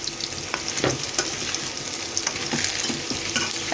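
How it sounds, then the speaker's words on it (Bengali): Taro corms frying in oil in a pan, a steady close crackling sizzle with occasional sharper pops and stirring scrapes, no voices. "এখন আমি এটাকে ভালো করে তেলের উপরে ভেজে নেব"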